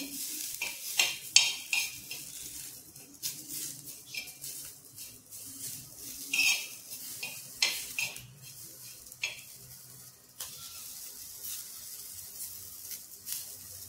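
Green chilies with a pinch of turmeric stirred and roasted in a pan, heard close as a spoon repeatedly scrapes and clinks against the metal over a soft sizzle, with no talking.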